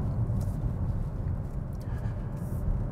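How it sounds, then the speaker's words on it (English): A 2024 Chevrolet Trax rolls over broken pavement, producing a steady low road rumble with faint bumps and thumps from the tires inside the cabin. "So we're going over some of that broken pavement right now, and it's not too bad. It's a little noisy"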